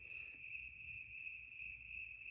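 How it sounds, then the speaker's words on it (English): Steady, continuous high-pitched cricket trill, loud and close, with a faint low rumble underneath and no talking. "when I came outside and I heard these crickets"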